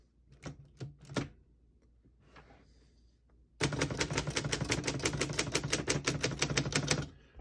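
A 1933 Underwood four-bank portable typewriter gives a few separate key strikes and mechanical clunks, then a fast, steady burst of rapid keystrokes rattling close and crisp for several seconds.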